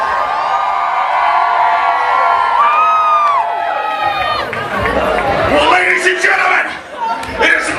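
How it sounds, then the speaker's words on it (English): A crowd at a hip-hop event screams and cheers loudly on cue, high voices whooping and shrieking together in a dense sustained roar with chatter and laughter mixed in. "I'm going to count to 3, and all of you will scream."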